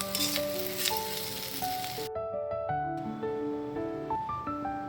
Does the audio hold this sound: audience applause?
no